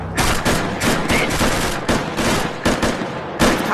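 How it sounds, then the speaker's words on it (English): Rapid, loud gunfire from the multiplayer video game Rec Room, a dense stream of repeated shots and bursts with no pauses, close and alone without talk. "we're getting shot at from somewhere"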